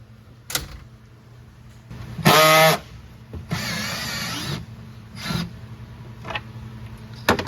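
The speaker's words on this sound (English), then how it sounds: "All right, we got to the belt covers. I'm just gonna pop them off." Belt covers come off a Polaris RZR Pro R side-by-side: a few sharp plastic snaps, a loud squealing scrape and a longer rough rubbing, all close up with no talk.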